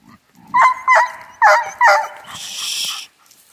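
A herding dog barks at livestock in a wooded pasture, four sharp, close barks in quick succession followed by a whiny, agitated yelp.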